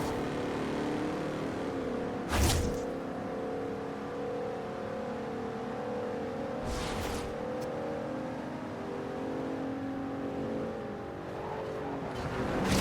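Cars race in Forza Horizon 2, with a steady engine drone throughout and two loud whooshes as vehicles pass close by, then a brief rise in revving near the end. Nobody speaks.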